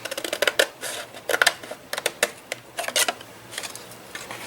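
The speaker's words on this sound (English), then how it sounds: "So just cut on the score lines." Scissors snip paper along score lines for a lunch box gift, quick close crisp cuts in irregular clusters that grow sparser toward the end, with no talking.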